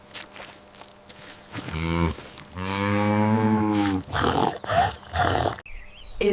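A cow lets out a long, loud, drawn-out moo up close, preceded by a shorter low call and followed by a few rougher bursts of lowing.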